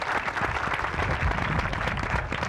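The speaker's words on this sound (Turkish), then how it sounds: "onu buradan alkışlıyoruz" Steady, dense applause from a Turkish television talk show studio audience, filling the whole span at an even level with no breaks.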